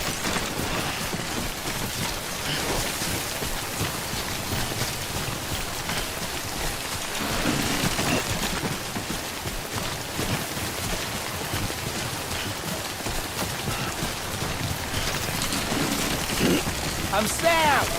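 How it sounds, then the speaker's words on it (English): Timefall rain falls in a video game, a steady hiss of rain pattering on surfaces with a brief, louder swell midway. A voice talks over it throughout. "Don't stay out in the rain any longer than you have to."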